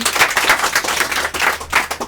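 A quiz show audience gives loud, close applause, with quick uneven claps blending into a lively patter that holds steady throughout.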